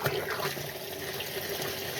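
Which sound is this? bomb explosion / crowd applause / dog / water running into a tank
water running into a tank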